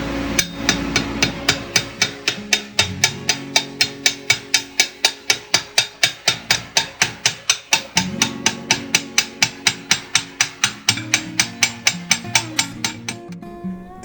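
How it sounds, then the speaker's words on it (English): A hammer forges a tube on a swage set on the anvil, dozens of sharp, ringing metallic strikes in a fast, steady rhythm, close and loud, with a brief pause partway through before the blows resume. "Next, we'll move forging to a swage on the anvil."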